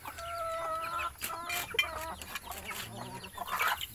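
Backyard chickens cluck steadily during feeding, with overlapping tonal calls and short squawks from several birds close by and no talk.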